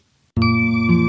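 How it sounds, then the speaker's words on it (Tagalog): A small handbell from a children's tale rings out clearly with a bright sustained metallic tone, struck once and left to hum and shimmer alone after a brief silence. "Pinatutunog niya ang kanyang kampanilya ng 3 beses"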